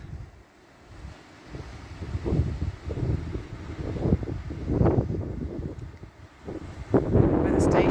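Gusty wind buffets outdoors on a very chilly morning before sunrise, rumbling low and uneven in surges that swell louder toward the end.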